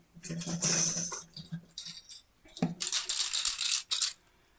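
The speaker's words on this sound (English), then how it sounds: "They have a really nice rattle. Actually, let me show you one." A small plastic fishing lure rattles as it is shaken, in several quick bursts of clicking with brief pauses, close and fairly loud.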